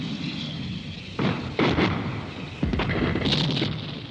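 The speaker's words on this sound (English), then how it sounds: "the enemy might just respond with artillery fire" An artillery barrage in woods, with deep, heavy booms and rumbling blasts rolling over a constant roar of background noise, several distinct impacts landing close together.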